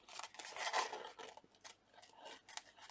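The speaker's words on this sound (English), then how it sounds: "Just cutting really carefully around the edges without cutting the envelope" Scissors snipping carefully around the edges of paper near an envelope, a run of quiet, close, irregular cuts and crisp rustles with no talking.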